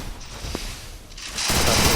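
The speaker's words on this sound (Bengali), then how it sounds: "সুন্দর শট এবং কাব্য হেডশট মেরে জাহিনকে হারিয়ে দিল এক রাউন্ডে।" Video game gunfire in a one-on-one match rings out as a few sharp reports, the last one ending in a burst of loud noisy rattle.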